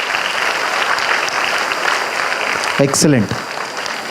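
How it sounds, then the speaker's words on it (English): An audience at a state-level abacus arithmetic contest gives a big round of applause to the teachers, steady clapping throughout while a voice briefly speaks over it near the end. "one big round of applause to all the teachers who have been training you so far"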